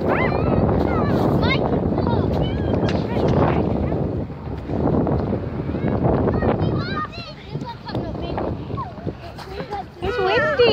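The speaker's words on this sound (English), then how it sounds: "It's windy, isn't it, House?" Wind rumbles against the microphone in uneven gusts while people chat nearby.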